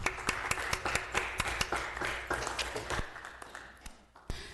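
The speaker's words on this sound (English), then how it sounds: "Let's give them a round of applause." Scattered, modest clapping from a small group at a city community affairs committee meeting, individual sharp hand claps standing out in an uneven rhythm that tapers off over a few seconds, fairly quiet overall.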